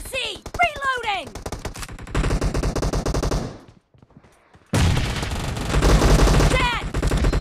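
Rapid automatic gunfire from PUBG Mobile team deathmatch play, loud bursts of machine-gun fire with a brief lull in the middle before heavy shooting resumes, mixed with game sound effects and faint voices.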